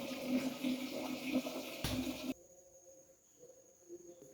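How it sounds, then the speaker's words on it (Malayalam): Water gushes and splashes into a pot being filled for rice gruel in a home kitchen, close and steady for about two seconds before it stops, leaving quiet room tone. "കഞ്ഞിക്ക് വെള്ളം അങ്ങോട്ട് വെക്കട്ടെ."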